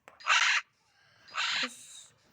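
A bird mob in a Minecraft mod gives two harsh, crow-like caws about a second apart, clear and close with no talk over them.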